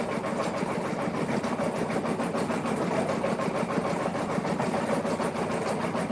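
Embroidery sewing machine running at its slowest setting of 400 stitches per minute, a steady mechanical whirring hum with a fast regular rhythmic patter, close and continuous throughout with no talking.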